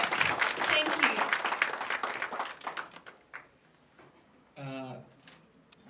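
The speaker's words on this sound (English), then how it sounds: "Let's give them a big round of applause." An audience at a documentary screening event bursts into dense, loud applause that thins out over a few seconds, followed by a short voice.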